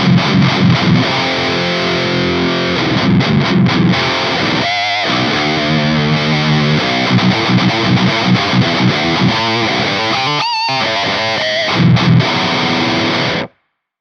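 Heavily distorted electric guitar running through a guitar amp plugin and a Mesa impulse response, playing chugging riffs with a grindy low end and brief stops, loud and close with no talking.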